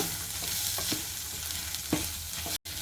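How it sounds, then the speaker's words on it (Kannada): Chopped onions and coriander stirred and fried together over medium heat in a pan, a steady close sizzle with a few soft scraping strokes of the spoon and no talking. "ಮೀಡಿಯಮ್ ಹುರಿ ಇಟ್ಕೊಂಡು ಇದನ್ನ ಚೆನ್ನಾಗಿ ಹುರಿದ್ಕೊಳ್ಳೋಣ"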